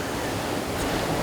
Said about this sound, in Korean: 지금 여기 이렇게 파도 치는데?